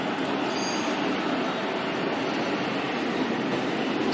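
An IC train at Brussels-Nord station, a loud steady rumble of rolling railcars with wheel noise filling the platform without a break.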